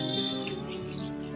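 Water pours steadily from an old Nawab-era pipe at Rampur Fort, a continuous close rushing splash with no pauses and no voices.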